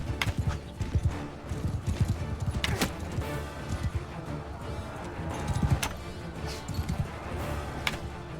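Horses in Mount and Blade Bannerlord, a medieval battle video game, gallop with rapid, continuous hoofbeats amid a busy clatter of combat, with occasional sharp impacts and neighs but no talk.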